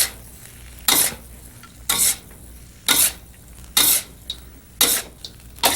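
A big spatula stirs rice in a pot with about six loud, evenly spaced scraping sweeps. The bursts come roughly once a second over a quiet background.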